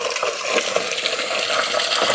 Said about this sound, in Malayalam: ആ പൈപ്പിൻ്റെ ചുവട്ടിലേക്ക് വെച്ചിട്ട് നമുക്ക് കുറച്ച് വെള്ളവും കൂടെ ഒഴിച്ചേക്കാം